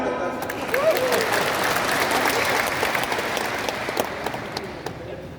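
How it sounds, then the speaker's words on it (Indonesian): A church congregation at a combined men's worship service applauds with steady, moderately loud clapping, and faint voices can be heard within the crowd. "Tepuk tangan."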